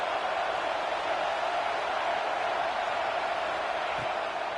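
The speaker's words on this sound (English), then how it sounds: "This crowd, full throat, splitting the eardrums" A packed stadium crowd at a college football game against Texas roars in a steady, continuous wash of noise, heard from a distance at a constant level with no distinct voices standing out.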